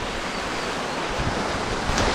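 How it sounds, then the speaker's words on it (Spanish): The choppy, swollen Amajac river near Metztitlán, Hidalgo rushes in a loud, steady roar close by, a dense hiss of turbulent water with no voices. "pensábamos cruzar por ahí, pero está muy picado y es peligroso"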